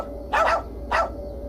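Neighbor's dog barking close by, two sharp barks separated by a brief pause over a low steady background.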